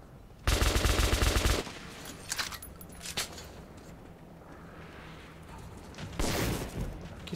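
Gunfire in the Metro 2033 video game erupts as a loud, rapid automatic burst at the start, followed by a few scattered single shots and a second burst at the end, with quieter ambience between.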